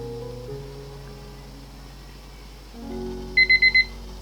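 A kitchen timer going off after buns steam for fifteen minutes, four quick high electronic beeps over a low steady hum of the stove.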